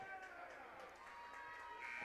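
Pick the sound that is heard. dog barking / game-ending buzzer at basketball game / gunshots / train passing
game-ending buzzer at basketball game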